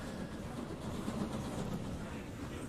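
A train runs in the Transport Fever 2 game with a continuous, even rumble and a faint clatter that holds steady throughout.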